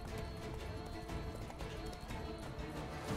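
Roach the horse from The Witcher 3 gallops with rapid, rhythmic hoofbeats, steady and fairly close, over game ambience with a faint snort or whinny mixed in.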